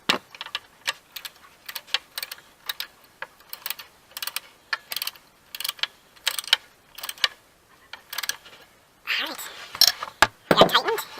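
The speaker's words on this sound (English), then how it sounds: "I've got the bolt in and started, so I'm just going to go ahead and tighten it up" A ratchet tightens a bolt on the horn mount of a K2 GSXR 600 motorcycle, giving rapid, close, crisp clicking in repeated bursts that turns into a denser run of clicks near the end.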